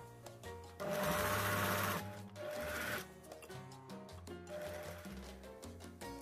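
A Singer sewing machine stitches scarf fabric in two steady runs, a close, rapid mechanical whirring with a brief pause between bursts, with no talking.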